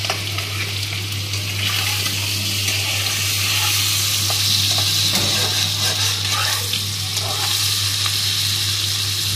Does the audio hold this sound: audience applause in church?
no